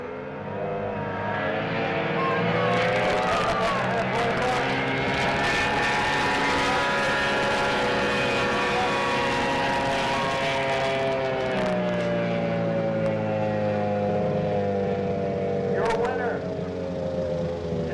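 Race boats or race vehicles at Tholocco roar past in a loud sustained engine drone that rises and falls in pitch as they speed by. A voice talks over the noise.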